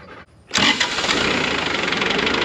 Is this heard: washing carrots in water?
no